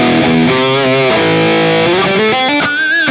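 Thick, heavily distorted high-gain electric guitar through a Nux MG-30 modeler playing chunky rhythm chords with a saturated, compressed tone, loud and continuous.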